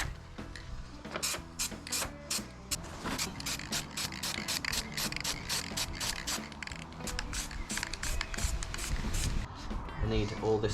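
A spray can hisses onto motorcycle parts for a 2002 Italian bobber build in rapid short bursts, with the can's rattle and clicks between sprays and a person talking at times.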